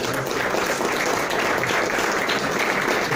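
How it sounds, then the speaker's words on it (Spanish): Strong, sustained audience applause at a Mexican Senate event, dense steady clapping filling the space without pause and with no talk over it. "Yo quisiera que le brindemos un fuerte aplauso."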